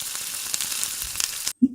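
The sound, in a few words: chopped garlic frying in a pan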